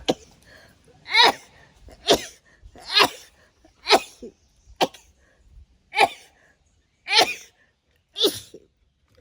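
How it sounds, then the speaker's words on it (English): A person sneezes repeatedly, about eight close, sharp bursts spaced roughly a second apart, each a quick breathy explosion in a quiet room. "gotta sneeze."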